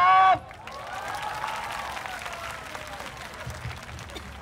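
Crowd applause and scattered cheering rise and hold steady from a gathered group of students at a campus flash mob rally at Thammasat University Rangsit, a dense mid-level wash of clapping lasting several seconds.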